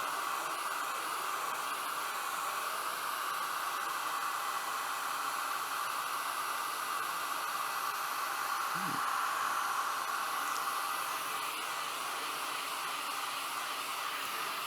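Hair dryer blowing steadily on a freshly coloured wood-turned piece on a lathe, a continuous broadband whooshing roar held at even loudness throughout, with a brief low thump partway through.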